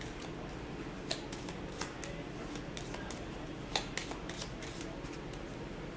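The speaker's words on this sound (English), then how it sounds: "we put that back with the other AI cards and we shuffle the deck" A deck of cards for the Star Wars Outer Rim board game is shuffled at close range on a tabletop, with soft riffling and a few sharp snaps of card edges over a quiet background.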